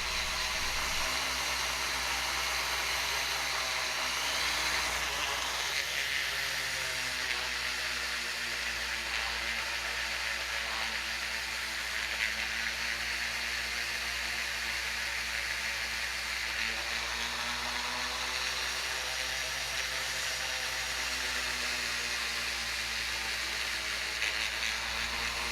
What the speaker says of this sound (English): I'm also going to break out flits and a polishing wheel in my rotary tool, and I'm really going to shine this motor up and the base.